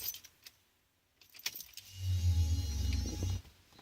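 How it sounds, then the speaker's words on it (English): A car with a fault has its ignition switched off and on again: keys jangle in short bursts, then a low steady electrical hum or motor drone runs for over a second before fading. "Switch off the ignition. Switch it on again."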